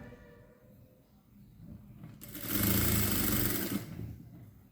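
A sewing machine stitches an A-line kurti, its motor rising into a rapid, steady whirring run of about a second and a half that stops abruptly, heard close against a quiet room hum.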